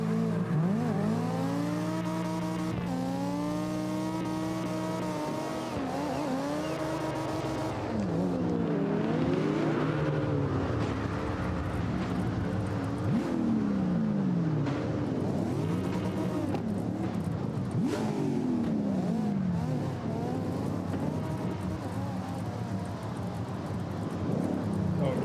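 Cars run a slide-style drifting practice session, engines revving continuously with rising and falling harmonic sweeps and tire squeal, loud and close throughout, with people talking over the engine noise.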